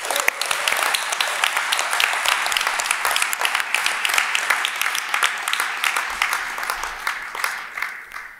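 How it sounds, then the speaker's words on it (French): A large audience at a mock trial applauds the jury president with dense, steady clapping that holds at an even level for several seconds before tapering slightly. "Mesdames et messieurs, je vous demande d'applaudir notre président du jury"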